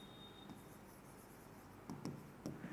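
A marker or chalk writes on a board during a geometry lesson on lines and angles, giving faint scratchy strokes with a few short bursts of taps and scrapes near the end.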